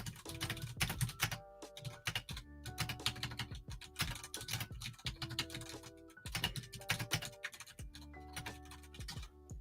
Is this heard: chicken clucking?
no